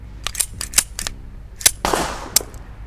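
A Colt Gold Cup Trophy pistol being cleared by hand, its slide and magazine making a series of sharp, close metallic clicks and clacks, followed by a short rattling scrape and one last click.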